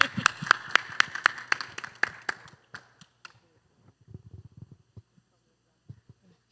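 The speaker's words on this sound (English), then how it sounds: "Clap them." Steady rhythmic clapping from a church congregation during a family life week session, close and even for about three seconds before stopping, followed by soft murmuring voices and shuffling.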